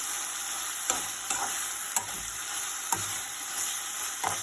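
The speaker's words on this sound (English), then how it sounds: "we have to mix all these things together and we have to fry for 1 minute" Kashmiri red chili powder mixture for hotel-style red chutney fries and sizzles steadily in a pan, with a few light stirring clinks, close and moderately quiet with no talking.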